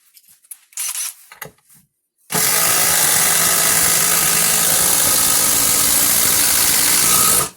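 Hilti and DeWalt 12V cordless drivers sinking fasteners, a few brief soft bursts first, then a loud sustained whirring drive running steadily for about five seconds close to the microphone.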